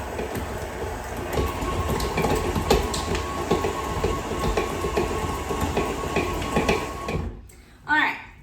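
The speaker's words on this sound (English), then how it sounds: "I'm gonna go ahead and just start creaming my butter" An electric mixer creams 1.5 sticks of butter for Linzer cookie dough, a loud, steady whirring drone that runs for about seven seconds and then cuts off, followed by a brief voice.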